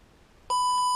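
Halfway through, the low-voltage buzzer on a cheap brushed micro ESC for RC cars and planes starts up, a steady, loud, high-pitched electronic tone after near silence.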